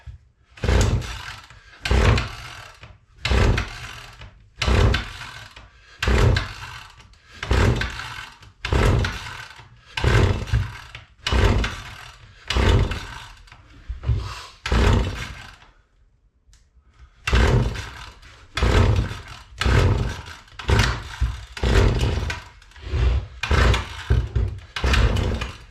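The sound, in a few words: gas string trimmer trying to start cold on choke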